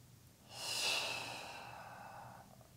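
Slow, deep breath drawn in and released during a pelvic floor stretch, a single soft airy swell that rises, holds and fades, close and quiet with no talking.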